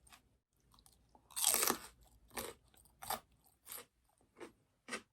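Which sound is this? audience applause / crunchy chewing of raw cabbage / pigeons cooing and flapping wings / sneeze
crunchy chewing of raw cabbage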